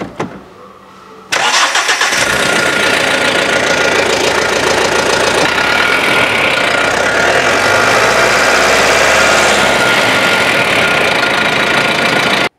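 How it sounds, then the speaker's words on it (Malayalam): A Mahindra Optimo Load King BS6 tipper's 2.6-litre CRDE diesel engine cranks after a quiet moment, catches, and settles into a loud, steady, clattering idle close by. "അപ്പോൾ ഏതായാലും നമുക്ക് ഈ വണ്ടി ഒന്ന് സ്റ്റാർട്ടാക്കാം."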